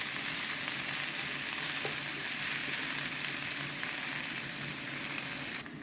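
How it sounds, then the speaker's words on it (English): Red pepper matchsticks fry over lowered heat in a pan for a Chinese hot and sour potato stir-fry, giving a constant even hiss with no stirring or voices, cut off abruptly at the end. "You can make the fire lower and then let them fry."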